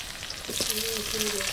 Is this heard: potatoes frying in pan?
yes